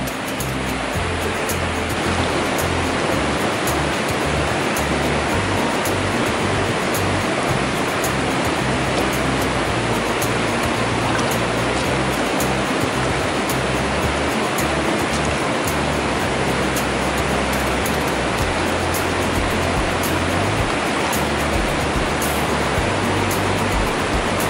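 Water pours steadily into a Milbank filter bag out in the woods, a loud, unbroken rushing hiss that stays constant throughout.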